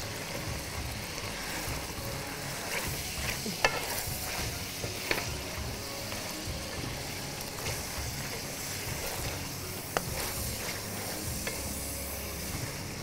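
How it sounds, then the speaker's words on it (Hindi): Food frying in a pan while being stirred, a dense continuous sizzle with soft irregular scraping and a few clinks of a utensil, moderately close and without talk. "इसको अच्छे से फ्राई करेंगे।"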